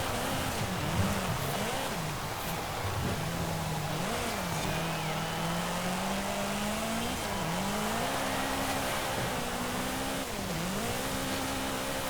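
A 1957 BMW Isetta 300 Export with a swapped engine and a 7-speed gearbox, driven in Forza Horizon 5: a steady engine drone rises and dips through repeated gear shifts, continuous and moderately loud, with no talk.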